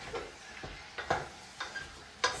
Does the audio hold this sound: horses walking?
no